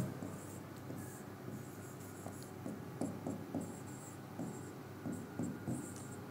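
Chalk or marker writes equations on a board during a power-systems lecture, with short tapping strokes and scratchy scrapes in uneven bursts, close and fairly quiet, with no voices.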